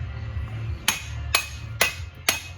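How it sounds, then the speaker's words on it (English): Four evenly spaced sharp metallic taps ring out as a 42mm socket drives a wheel bearing into the rear left hub of a Honda Foreman Rancher ATV, close and clear over a faint low hum. "put the bearing on here and just tap the bearing in there"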